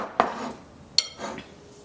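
Spinach dip made with four cheeses, including cream cheese, spooned out of a bowl into two containers, giving a few distinct clinks and scrapes of utensil against dish, close and fairly quiet, with no talking.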